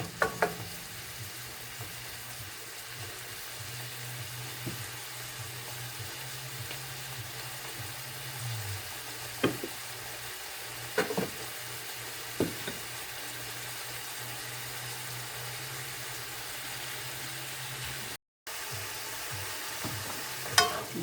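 Shrimp sizzle in a pan with a steady, quiet frying hiss and occasional soft clinks and pops.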